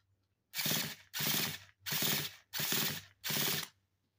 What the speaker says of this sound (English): put your ignition source on and crank it